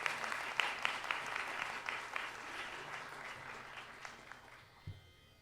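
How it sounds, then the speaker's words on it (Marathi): An audience at a Diwali Pahat music concert claps for a singer, a fairly faint spread of applause that fades out gradually by the end. "प्रियाला अजून एकदा जोरदार टाळ्या."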